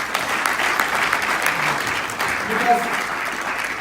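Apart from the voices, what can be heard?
applause for the mentors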